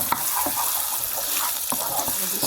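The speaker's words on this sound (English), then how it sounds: "What you want to do is just saute your onions for a couple of minutes" Onions sauté in a pan with a loud, continuous sizzle, punctuated by a few sharp scrapes and taps of a utensil moving them around, close and with no speech.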